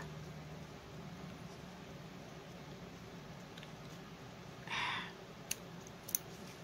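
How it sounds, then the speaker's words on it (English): A quick rasping snip of scissors catching on sewing thread over a steady background hiss, followed by a couple of sharp clicks. "Scissors got hung up."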